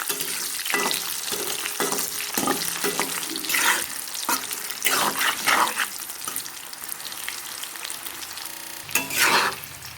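Boiled potato pieces fry in a pan, giving a steady close sizzle broken by repeated scraping stirs and clatters of a utensil, some louder knocks standing out, with no talking.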